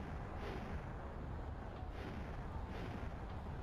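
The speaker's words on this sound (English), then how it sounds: "There's so many explosions here." Explosions in a video game build mode battle form a dense, continuous roar of overlapping booms and rumbling blasts that stay loud and steady throughout, with no talking.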